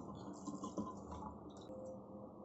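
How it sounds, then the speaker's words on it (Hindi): Water poured into a pressure cooker holding soaked rajma (kidney beans) in a home kitchen, a steady close splashing and trickle running throughout with small drips and clinks. "ये हम इसमें पानी डालेंगे। इसमें हमें पानी थोड़ा ज़्यादा डालना है।"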